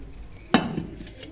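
An iron wok is set down on a gas stove with a single sharp metallic clank and a brief ringing rattle, followed by a quiet hum.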